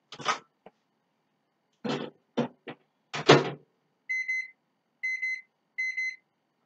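A microwave oven being set for six minutes: a few quick keypad presses and button clicks, then three short, bright electronic beeps in a steady pattern, clear and close.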